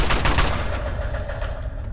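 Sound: gunfire in video game Fallout 3

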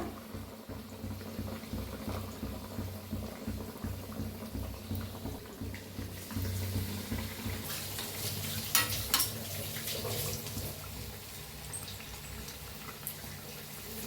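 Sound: bread pakora frying in hot oil

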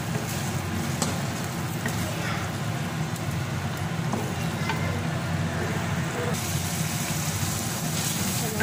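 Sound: black daal being roasted (fried) in a pan

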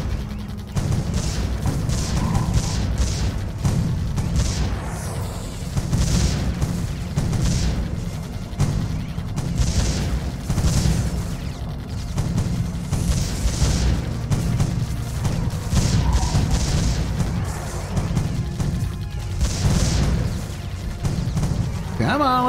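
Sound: cannon fire and explosions in video game Defense Grid

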